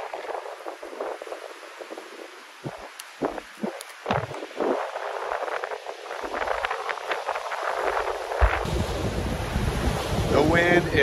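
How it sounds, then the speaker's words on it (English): Strong wind and waves on Lake Richardson in Maine's Rangeley Lakes region, with whitecaps: steady roaring gusts buffet the microphone while surf washes and builds louder toward the end. "The wind is ripping out here."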